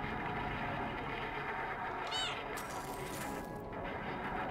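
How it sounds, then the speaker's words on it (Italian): A cat's meow in the video game Stray, one short mewing call rising over a continuous hum of game ambience, followed by a burst of brighter noise. "Reagiscono al nostro miagolio"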